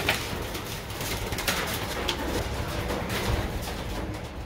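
Pigeons cooing inside an aviary, a continuous murmur of soft coos and rustling nearby, moderately loud with a few louder flutters scattered through.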